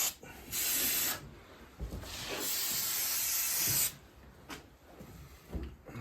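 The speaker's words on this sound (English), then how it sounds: "And just give this a bit of a squirt of brake clean." Brake cleaner sprayed onto a Harley Ironhead Sportster stroker crankshaft: loud hissing aerosol bursts of one to two seconds, with a long continuous spray in the middle and short clicks between.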